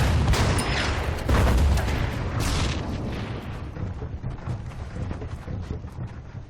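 Artillery shells a bunker in the WWII strategy game Order of Battle: Blitzkrieg at Mlawa, with loud, deep booms and rolling rumble in the first seconds that thin into a long, crackling, fading tail, with no talking.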